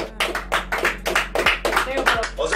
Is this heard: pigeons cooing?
no